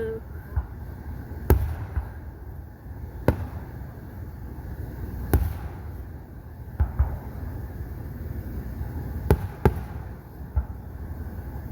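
Fourth of July fireworks burst in a series of sharp, loud bangs spaced a second or two apart, each decaying into a crackle, with excited voices talking between the blasts.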